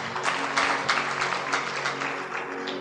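A sermon congregation claps in steady, loud, continuous applause with dense overlapping hand claps throughout, no talk on top.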